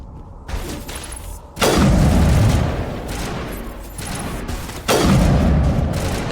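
Heavy gunfire from the Mass Effect video game, with two loud booming volleys of shots over a constant rumble of battle noise, the bursts landing close and forceful.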